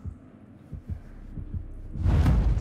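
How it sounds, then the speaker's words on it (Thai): A heartbeat sound effect from The Casting of Frank Stone video game thumps in a slow, steady rhythm of low beats, then a louder rumbling swell takes over near the end. "ทำไมเสียงเต้นตึกตักตึกตัก"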